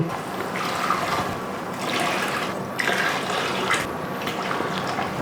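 Chicken stock is poured into a pot of pulao, making a steady, close, continuous splashing gush with small surges and no voices.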